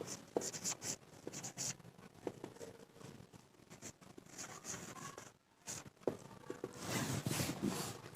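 Hand writing an inscription with a pen on paper, soft intermittent scratching strokes in short bursts with pauses, close and quiet, alone without talk.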